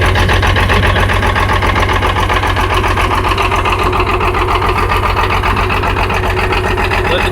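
An International Harvester 656 tractor engine idles loudly and close after a cold start, puffing smoke, with a fast, even diesel chug and a steady mechanical clatter throughout.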